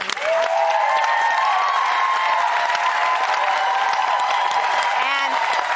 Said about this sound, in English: Let us give a round of applause to all the community service organizations advancing the dream.